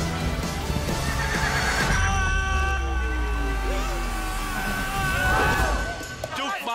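A horse neighs loudly in a long wavering whinny, then whinnies again, over a dense rumbling soundtrack with hoof clip-clops, a mixed cinematic scene from a comedy film trailer.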